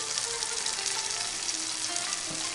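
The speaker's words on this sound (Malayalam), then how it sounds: "നമ്മൾ ഫ്രൈ ചെയ്തെടുത്ത സെയിം പാനിൽ തന്നെ 100 ഗ്രാം ടൊമാറ്റോ സോസ് ഒഴിച്ചു കൊടുക്കാം." Tomato sauce poured into a frying pan that still holds hot oil from frying chicken sizzles in a steady, even hiss that stays constant, moderately loud and close, with no speech.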